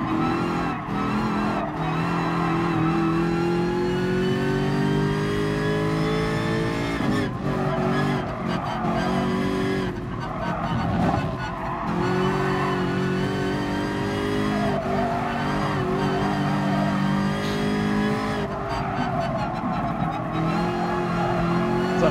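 A Group 5 race car in Gran Turismo Sport at Suzuka runs hard, its engine droning loudly and steadily while the pitch climbs through gears, with repeated shift cuts and occasional tire squeal.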